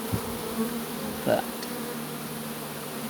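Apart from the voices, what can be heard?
honeybees buzzing around a hive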